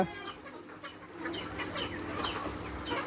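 Tiger breed hens clucking and cackling in a busy flock, several birds calling over one another at close range, steady and continuous.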